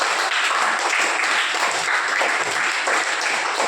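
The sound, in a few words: audience clapping for everyone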